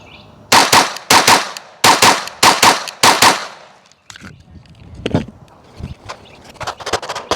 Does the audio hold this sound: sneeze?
no